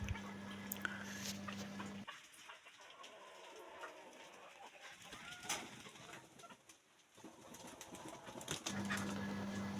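Pigeons and chickens kept together on a small farm flock in to be fed, with close, busy cooing, clucking and scattered bird calls over a steady background murmur and the shuffle of birds moving about.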